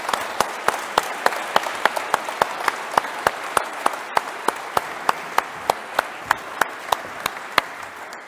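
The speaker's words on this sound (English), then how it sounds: "Ladies and gentlemen, just a big round of applause for John." A conference audience on the East Anglian coast and estuaries gives a round of applause, steady, full clapping from many hands with a few sharp, regular claps standing out, sustained throughout without talk.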